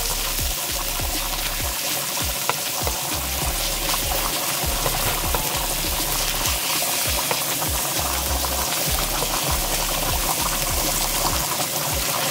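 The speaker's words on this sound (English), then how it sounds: "spaghetti is boiling here nicely" A pot of spaghetti boils with a steady bubbling and hiss, heard close and fairly loud, with occasional clinks and stirring on top.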